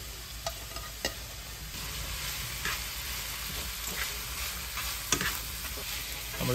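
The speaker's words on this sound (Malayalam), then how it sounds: "നമ്മളിതെല്ലാം കൂടെ ഒന്ന് ഇളക്കി കൊടുക്കുവാണ്." Chopped ginger and curry leaves fry in a pan with a steady, close sizzle, broken by scraping clacks of stirring at irregular intervals.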